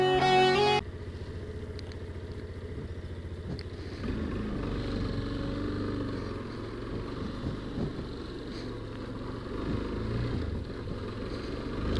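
Motorcycle being ridden through a town, with a steady engine drone and wind rush close up, the engine note rising slightly toward the end.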